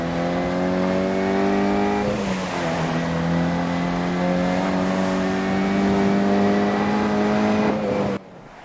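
Mini rally car accelerating hard out of a snowy hairpin at Monte-Carlo, its engine note loud and close, dipping briefly then climbing steadily through the revs before cutting off near the end.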